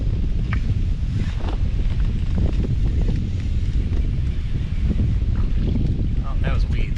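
Wind blows across a lake beside a fishing boat, a constant loud rush and buffeting on the microphone with faint knocks and splashes underneath.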